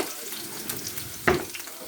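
Garlic, ginger, bay leaf and spices fry in a pan with a low, steady sizzle, broken by a brief clatter of stirring, close and quiet.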